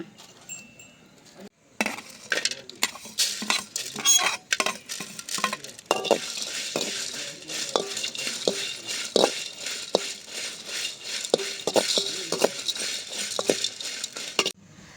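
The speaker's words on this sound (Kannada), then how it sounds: "ಬನ್ನಿ ಇದನ್ನ ಸ್ವಲ್ಪ ಹುರ್ಕೊಳ್ಳೋಣ" Spices fry in a pan while a metal spoon stirs and scrapes, giving repeated clinks and scrapes over a soft sizzle that grows fuller after a short quiet start, close and with no talking.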